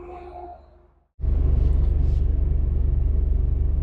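A 2024 Maserati GranTurismo Modena engine drops to near silence for a moment, then breaks into a deep, loud, steady rumble that holds on close by as the car moves off.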